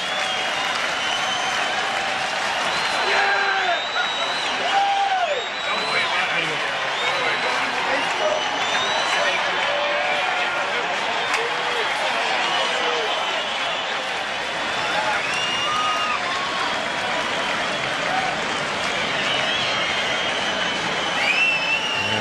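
A stadium crowd gives a long ovation at a baseball game between the California Angels and the Baltimore Orioles, with dense sustained applause and cheering filling the whole stretch with little letup.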